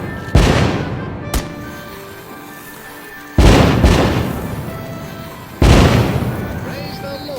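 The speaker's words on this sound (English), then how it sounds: "Light up those fireworks," Fireworks in a video game go off in three loud, booming bursts spaced a few seconds apart. Each blast is followed by a crackling tail, and a short sharp pop sounds between the first two.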